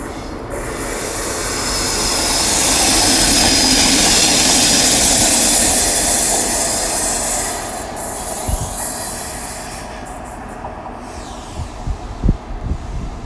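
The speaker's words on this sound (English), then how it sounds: "a light locomotive move from Alexandra Dock going to Lauren Exchange" A Class 60 light locomotive runs alone from Alexandra Dock at Newport, a loud rumbling pass that builds, holds steady, then fades, leaving a few clanks and wheel knocks at the end.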